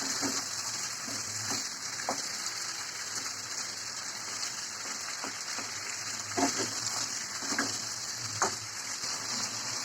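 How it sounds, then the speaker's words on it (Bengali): Large pumpkin pieces sauté in a pan for a Bengali pumpkin ghonto with hilsa, making a continuous rain-like crackling sizzle broken by scattered taps and scrapes of stirring. "এখন কুমড়াটা ভালো করে কষিয়ে নিচ্ছি।"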